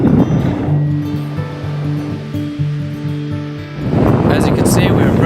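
Ocean surf rumbles in a broad, loud wash near the Kakapo shipwreck coast, with a low tonal drone threading through the middle before the roar of the waves swells again.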